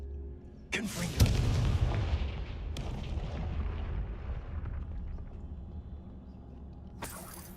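Hogwarts Legacy's Confringo fire spell going off as a sudden heavy blast that rolls into a long crackling, fading rumble, followed by a second sharp burst at the end.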